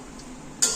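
Chicken biryani masala with dried chili powder being stirred in a pot, a soft steady scraping that ends in one brief, brighter clink of the spoon near the end.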